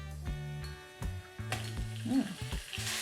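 Minced pork hits hot oil with garlic for Thai glass noodles, sizzling in bursts, with spatula scrapes and clinks of the pan under a faint background hum.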